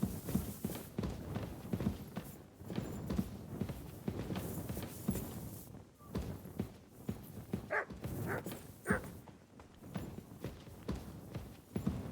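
A dog barks in Kingdom Come Deliverance 2, short repeated barks among thudding footsteps and clopping in a busy outdoor game scene, fairly close and fairly loud, with little talk.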